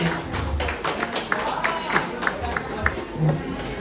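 Loud applause from an audience at a Garhwali cultural evening held abroad, with taps and claps over crowd noise and a voice speaking through it.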